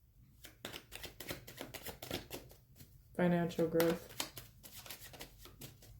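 Tarot cards riffled in a brief, crisp burst of shuffling mid-clip, with someone talking softly before and after.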